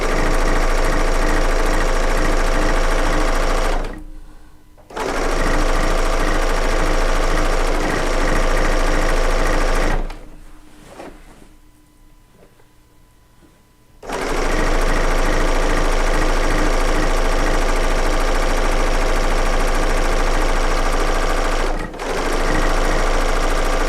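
Serger sewing machine stitching down a quilt top, running in loud sustained bursts with a short pause near five seconds, a longer stop around ten to fourteen seconds, then a brief hitch before it resumes.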